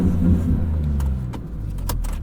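Maserati MC20 engine idling in a steady low rumble, heard close up and alone, with a few faint clicks over it.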